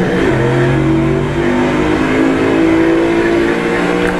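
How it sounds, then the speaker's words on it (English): A 1966 Ford Mustang RTR with a 4-speed, driven in the racing game Project Cars 2, its engine droning steadily and climbing through the revs with a few pitch shifts, loud and continuous with no voices. "we're in the 1966 Ford Mustang RTR, and it just sounds and looks absolutely insane"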